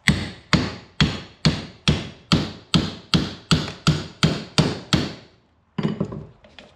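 Eleven sharp, evenly spaced hammer taps on a metal Yukon Superjoint U-joint of an offroad vehicle, loud and close, followed by a pause and a softer, scuffling knock.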